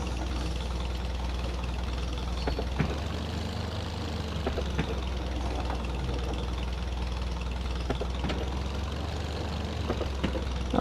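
A vintage tractor engine in the Farm Sim 25 game runs steadily with a deep, loud idle and faint knocking ticks throughout, with no talking over it.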